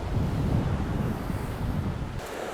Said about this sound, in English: try to fall asleep to the sound of the ocean waves crashing on those volcanic rocks